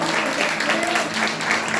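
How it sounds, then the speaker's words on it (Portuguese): A church congregation claps steadily and loudly, a dense unbroken wash of applause with some voices mixed in. "Você pode aplaudir bem forte, Jesus."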